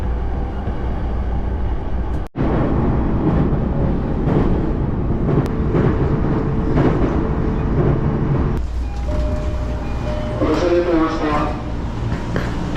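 Train ride in Japan on a Tokyo subway line, a loud continuous rumble of the carriage rolling along the tracks, with people talking over it.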